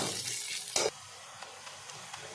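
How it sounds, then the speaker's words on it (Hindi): Onions frying until golden in a hot wok, a soft continuous sizzle with a brief louder stir or scrape near the start, then faint crackles. "एबे हमें प्याज नहीं नबू प्याज को भल भाव गोल्डन फ्राई करिवो"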